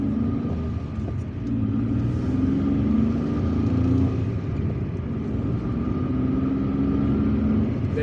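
A car drives through the streets of Algiers with a steady engine rumble and road noise throughout, close and continuous inside the cabin, no speech.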